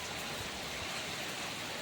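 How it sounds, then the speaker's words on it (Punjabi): Steady, dense hiss of heavy rain pouring down, continuous and fairly loud with no voices or breaks. "ਇੱਧਰ ਦੇਖੋ ਮੀਂਹ ਕਿੰਨਾ ਤੇਜ਼ ਮੀਂਹ ਆ ਗਿਆ ਹੈ"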